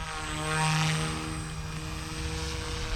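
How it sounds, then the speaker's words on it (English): A Blade 150 S RC helicopter's whirring rotor and motor drone steadily nearby in flight, a high buzzing whine swelling briefly before holding level. "with these helicopters, when you fly them"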